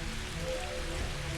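Steady rain pattering on a surface during a village night scene in a horror story, an even, continuous wash of drops with no voices.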